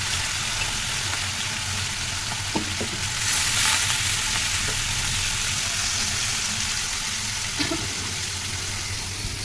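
Fish fry in a pan with a loud, continuous sizzling hiss that holds steady throughout, broken by a few faint clinks and scrapes and no talking.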